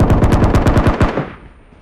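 A rapid burst of about a dozen automatic shots rings out at an enemy in a shooter video game set at a military base, loud and close, then cuts off into a short fading tail.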